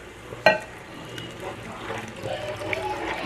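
Water poured into a pot holding a heaping tablespoon of bouillon base, heard up close as a short clink followed by a steady, soft splashing wash that continues to the end.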